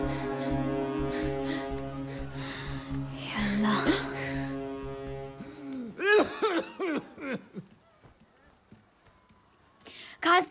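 A person coughs in a fit of several harsh, raspy coughs after a stretch of droning music, close and loud, with a gasp at the end in a Hindi film scene.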